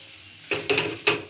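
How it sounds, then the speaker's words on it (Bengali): Mashed boiled potato frying in a pan, with three quick scraping stirs of a spatula over a soft, low sizzle. "আলুটা একটু ভাজা ভাজা হয়ে আসলে"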